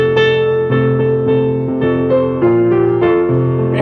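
Toy piano notes from a Christmas cartoon, a steady sequence of bright, tinkly tones with a simple melody, loud and close with no talking.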